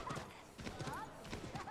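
A horse gallops in Assassin's Creed 3 Remastered, its hooves beating a quick, steady clip-clop rhythm throughout, with voice-like tones mixed in.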